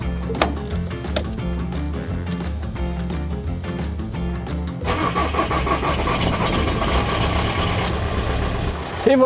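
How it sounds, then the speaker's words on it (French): A car's diesel engine, just after an oil and filter change, cranks with a few sharp starter bursts, briefly stumbles, then catches and settles into a steady, close idle rumble that continues to the end. "le moteur a brouté un tout petit peu quand j'ai allumé"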